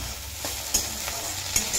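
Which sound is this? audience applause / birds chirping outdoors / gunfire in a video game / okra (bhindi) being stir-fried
okra (bhindi) being stir-fried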